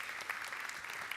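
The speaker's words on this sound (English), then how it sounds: "big round of applause, please" Audience applause for a presenter at a startup showcase event, steady dense clapping from a crowd, faint and distant, with no voices over it.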